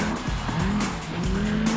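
A Lamborghini brakes hard into a hairpin on a road circuit. Its tires squeal in a brief, loud burst over the engine, with a rising whine running under it.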